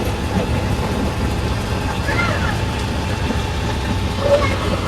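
A crowded second-class train carriage rolls along at night on the route toward Pathankot, giving a steady rumbling hum with faint clatter throughout and brief squeaks over it.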